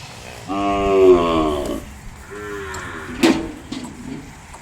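Ongole breed calves moo twice up close: a long, full bellow, then a shorter, softer call, with no talking.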